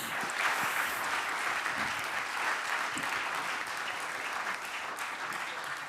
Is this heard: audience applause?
yes